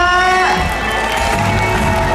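Audience applause and cheering at a grand opening event on stage, a steady dense crowd roar with whoops and clapping throughout, loud and close, with a host's voice mixed in.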